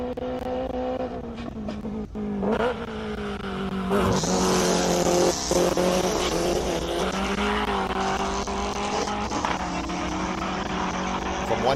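A Subaru hill climb race car, nicknamed Darth Vader, roars steadily with a loud engine that surges and climbs after a few seconds, with commentators talking over it throughout.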